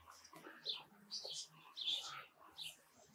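Budgerigars chirp on a private estate, their high, short, scattered tweets faint and somewhat distant against quiet background noise.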